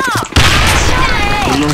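A grenade blast in the Korean online shooter Sudden Attack erupts suddenly and loudly after a short lead-in, followed by sustained rumbling game audio as a player talks over it.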